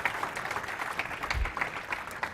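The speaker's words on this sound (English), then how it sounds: "I would suggest a round of applause because they did a brilliant job at doing that." Audience at a DevOps meetup in Mountain View giving a round of applause, a modest, fairly faint patter of clapping with a few louder claps.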